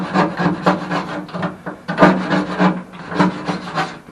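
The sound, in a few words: razor blade scraping paint off a car panel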